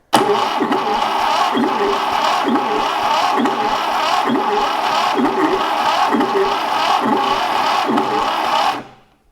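A 1968 Fiat 500 engine cranks and catches for the first time in 40 years with the throttle held wide open: loud, close, rhythmic chugging pulses about twice a second for nine seconds, then it cuts out abruptly.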